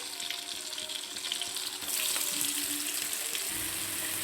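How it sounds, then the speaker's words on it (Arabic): Chicken pieces searing in a pan with a cube of butter and olive oil give a steady, fairly loud sizzle and crackle that grows denser partway through. No one speaks. "هبتدي انزل بالفراخ تاخد صدمه من الجنبين"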